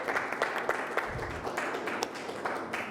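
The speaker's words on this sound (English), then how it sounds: "a big round of applause for him first" An audience at a conference session on culture-based climate action gives a round of applause, steady, fairly close clapping with individual sharp claps standing out.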